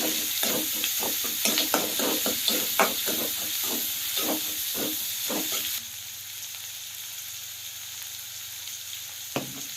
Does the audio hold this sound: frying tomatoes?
yes